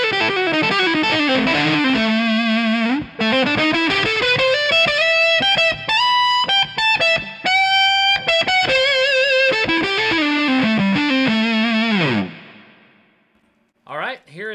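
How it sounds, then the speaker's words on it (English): Electric guitar through a PHD Isosceles Fuzz pedal with its clipping switch in the top position, playing a long, loud, continuous fuzzy lead of sliding and bending notes with brief gaps, ending in a fading tail and then a short burst of sound. "I want to show you what this clipping switch sounds like when you move it into different positions."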